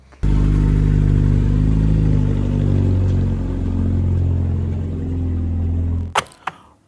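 An old 1990s Volkswagen Polo drives with a loud, steady low engine drone and road rumble that swells and eases slightly, close up, before cutting off abruptly near the end with a few clunks.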